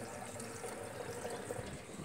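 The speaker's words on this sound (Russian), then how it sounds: "вода спокойно уходит" Water drains freely down a private house's sewer pipe after cleaning, a faint continuous trickle and gurgle heard alone and close by.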